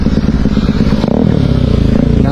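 An off-road motorcycle, a Delta, revs its engine loudly and close while stuck on a hilly dirt track, a throbbing growl that rises briefly, with some clatter underneath.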